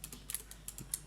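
Typing a command on a computer keyboard: a quick run of about ten light, crisp key clicks in an irregular rhythm, close and fairly quiet.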